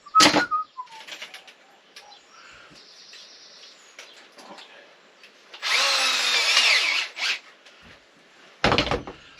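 A power drill drives screws during a camper van build, with one long, loud whirring burst followed by a shorter burst near the end, close by, amid quieter workshop clatter.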